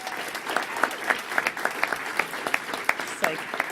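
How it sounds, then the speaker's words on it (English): Audience at an MLS special announcement event applauds after a video is shown, a moderate wash of clapping with distinct individual claps standing out, a voice faintly present. "maybe a round of applause for that video"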